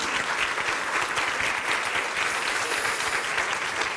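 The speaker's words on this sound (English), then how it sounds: "They deserve a round of applause." An audience at a summit gives a round of applause for the event team, a steady, dense wash of clapping that holds evenly for several seconds.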